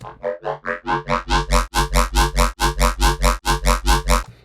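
A square-wave riddim bass patch built in Serum and squashed with OTT pulses in a fast, steady chain of about twenty loud, gritty wobbling notes, each swelling and cutting off in strict rhythm, heard alone.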